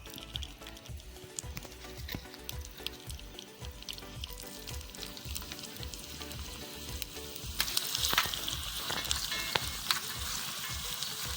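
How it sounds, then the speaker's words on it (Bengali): Sliced onions deep-fry in white oil in a small miniature-kitchen kadai for mutton biryani, making a close, continuous sizzle with crackles and pops that grows louder for a moment partway through, with no talking. "প্রথমে আমরা কড়াইতে তেল দিয়ে বেরেস্তাটা ভেজে নেব।"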